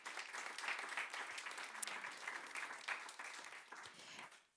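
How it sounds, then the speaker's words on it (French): Audience applauding after a presentation at an indoor event, a sustained patter of many hands clapping, moderately distant and fairly quiet, tapering off at the end. "On t'applaudit à nouveau, Natacha."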